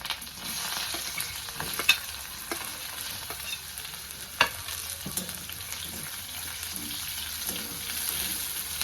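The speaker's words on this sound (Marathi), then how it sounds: "त्याच्यानंतर मी कांदा टाकून घेते" Onion frying with ginger and garlic in a pan for a bitter gourd dish, a steady soft sizzle with occasional spoon scrapes and two sharper clicks, no talking.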